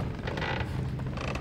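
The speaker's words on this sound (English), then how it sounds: "Squeaky, squeaky noise." A squeaky object creaks in the dark puzzle game Little Nightmares, two drawn-out, strained squeals with a short pause between them, close and loud.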